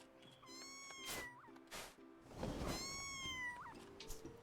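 Two separate cat meows from a video game, each a clear rising-then-falling harmonic cry, heard up close over soft game music with no talking.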